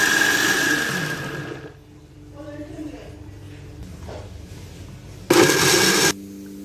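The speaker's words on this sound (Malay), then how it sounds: "kita boleh kisarkan keledek keledek dalam blender 2 kali ya" A kitchen blender grinds boiled sweet potato with a little water, a steady whirring drone that stops partway, followed by quieter kitchen sounds, a short low speaking voice, and a final brief loud burst of blending.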